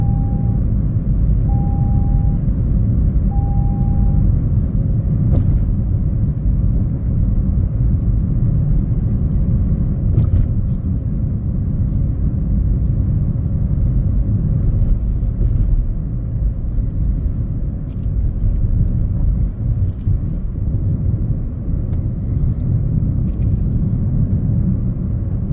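A car drives along a smooth road on a driving test route in Rugby, with a steady, unbroken engine hum and road rumble that stays even throughout, joined by a few short tones near the start.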